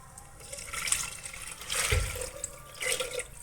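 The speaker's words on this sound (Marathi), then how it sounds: "आता आपण पाणी टाकणार आहोत।" Two glasses of water pouring and splashing into a pot of fried onions for dal khichdi, in a few surges, close by and fairly quiet, with no talking.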